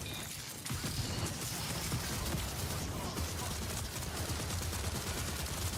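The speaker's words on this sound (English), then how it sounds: "They were shooting something in there" Sustained gunfire in the video game Marathon, a dense continuous barrage of shots at steady loudness that fills the whole stretch, with no voices over it.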